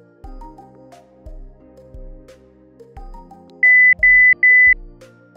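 Three short, loud electronic beeps come from a Paloma water heater's safety alarm, sounding alone over soft piano tones in the background.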